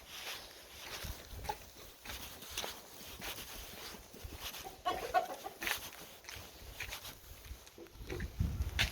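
Chickens cluck faintly and intermittently at night in a farmyard coop, low under steady background noise with occasional rustling and bumps, a few soft bird calls rising briefly near the middle.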